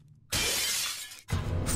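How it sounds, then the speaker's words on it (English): Picture frame glass shatters in the VR game Kill It With Fire, two loud bright crashes of breaking glass close together, the second following a brief gap. "Shatter picture frames."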